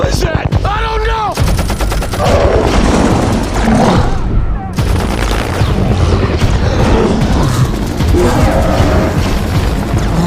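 Heavy gunfire from attack helicopters in a Kong: Skull Island battle scene, loud and sustained bursts over roaring engines and dense action noise for the whole stretch, with a brief pause midway before the barrage resumes.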